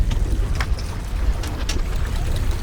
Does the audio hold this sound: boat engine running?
yes